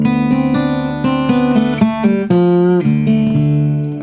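A guitar tuned to DADGAD plays a bluesy measure of plucked notes over ringing low drones, close and clear, ending on a sustained, fading chord.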